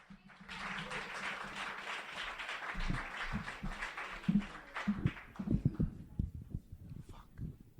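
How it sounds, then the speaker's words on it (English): A crowd applauding with dense clapping that fades out, followed by irregular low thumps and bumps. "Give him a big round of applause."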